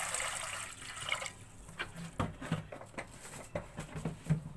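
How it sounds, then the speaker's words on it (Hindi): Water is poured from a glass into a cooking pot for wheat porridge, a short splashing pour followed by scattered drips and small clinks. "जिसमें सबसे पहले 1 गिलास पानी को शामिल कर लेंगे।"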